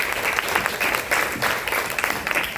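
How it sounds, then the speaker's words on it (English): An audience breaks into sustained applause at an event on combating antisemitism, a dense, steady patter of many hands clapping filling the room for a few seconds with no voices over it. "Let's give Bella a round of applause."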